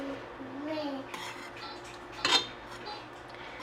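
Ramen tteokbokki is stirred in a pot, with soft scraping and a sharp clink of a utensil against the metal midway, close and fairly quiet.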